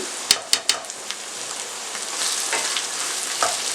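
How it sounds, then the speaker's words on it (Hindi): Spices and chillies frying in hot oil for a dal chana and karela curry, a steady close sizzle with a few sharp clicks of a spoon against the pan early on, and no talking. "चंद सेकंड के लिए फ्राई कर लें ताकि मिर्चें फ्राई हो जाए"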